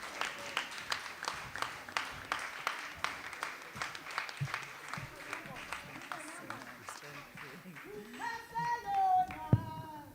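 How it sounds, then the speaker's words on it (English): Rhythmic clapping from a crowd at a mass funeral empowerment event as a woman is welcomed to the podium, steady and moderately distant, with voices talking and singing over it toward the end. "you don't stop clapping our hands while she's coming"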